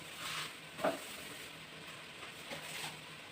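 Minced meat cooking in a pan with tomato and peppers, giving a steady low sizzle with a few brief scraping stir clicks near the start and later, heard up close with no talking.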